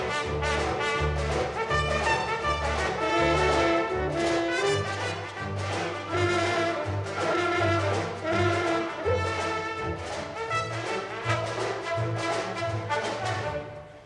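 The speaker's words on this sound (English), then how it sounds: "That's the sound of Gershwin." A symphony orchestra plays a Gershwin-style American passage, with a steady repeated low figure under bright, busy strings and winds, sustained and fairly full throughout without any talking.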